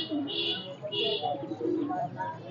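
Pigeons at the Nayabati pigeon market in Khulna give soft, low cooing calls in short repeated bursts, mixed with brief higher chirps and faint market chatter nearby.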